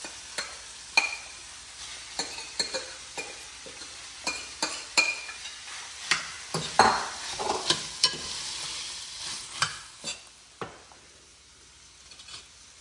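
Mashed boiled potatoes and green peas being stirred in a hot pan for halwai-style samosa filling, with a steady sizzle of frying under repeated scraping, clicking strokes of the spoon against the pan, close and fairly quiet.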